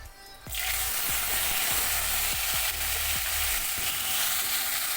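Dry mango pieces drop into hot oil in a pan for mango tiger rice (pulihora). A bright, loud sizzle erupts after a brief quiet start and continues steadily, punctuated by light clicking stirs. No voices are present.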